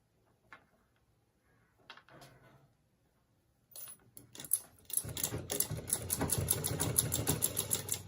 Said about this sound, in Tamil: அதே மாதிரி திரும்பியும் பக்கத்தில் வச்சு ஊசி இறக்கிட்டு நீடில் வச்சு தைக்கணும்.